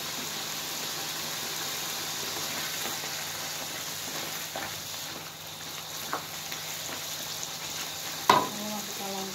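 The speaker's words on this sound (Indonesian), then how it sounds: "Setelah itu kita masukkan udang rebon yang udah dihaluskan tadi." Ground dried rebon shrimp frying in a pan as it is stirred, making a steady close sizzle with occasional scrapes and a sharp clink near the end, no voices.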